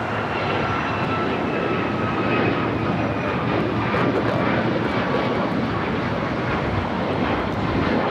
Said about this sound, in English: This takeoff is United Airlines 279 taking off to Tampa, Florida on the MAX 9